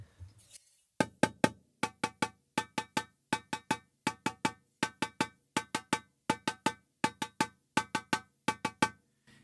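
A freshly tuned snare drum's bottom head is tapped in quick, even groups of three or four strikes, each a short bright ringing hit, repeated steadily and heard close and clean with no talking.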